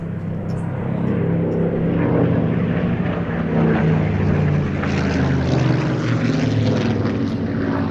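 A vintage propeller fighter aircraft drones past at an air festival, a loud, sustained engine roar that swells slightly midway and holds steady without talk.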